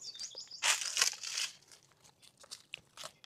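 A crunchy snack is bitten and chewed close up in short bursts of crisp crackling, then fainter scattered crunches.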